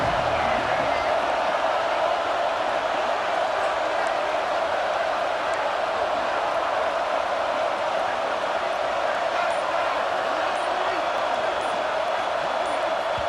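Steady, dense roar of a large college football stadium crowd in a video game, continuous and loud throughout with no letup, sounding like a broadcast-style game mix.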